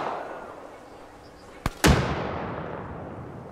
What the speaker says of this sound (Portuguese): Manda a granadeira.